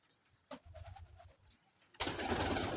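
Young pigeons cooing softly inside a backyard coop, a few low murmuring coos close by, ending in a sudden burst of louder rustling noise.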